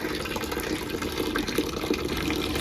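A household water tap runs at full flow, a steady, close gushing splash that continues without a break and with no talking over it.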